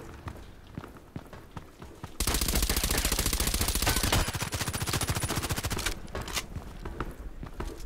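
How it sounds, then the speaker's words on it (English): Gunfire from a sniper video game rings out in a dense, rapid burst of shots lasting about two seconds. Quieter scattered shots and movement sounds come before and after it. "I'm shooting."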